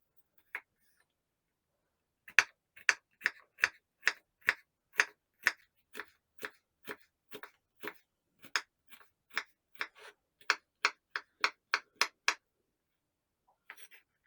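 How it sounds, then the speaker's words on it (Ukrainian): A knife chops raw carrot into small cubes on a cutting board in a series of crisp, close taps. The strokes come at a steady, even pace, with about two dozen cuts in a row and a single tap before and after the run. "морква в мене сира, щоб вона встигла приготуватися, тому її треба порізати дрібними кубиками"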